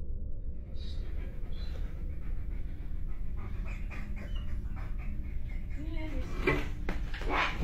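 A dog pants rapidly and steadily at close range throughout, with faint thumps and a few brief squeaky noises near the end.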